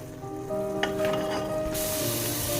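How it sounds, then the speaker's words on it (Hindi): Ground coriander and cumin go into chickpeas already sizzling in a pan. A steady, close frying hiss runs throughout, with a brief stir near the start and the sizzle swelling brighter toward the end, with no talk. "अब इसमें हम सूखा धनिया और जीरे को जो मैंने ग्राइंड करके रखा था वो डालेंगे।"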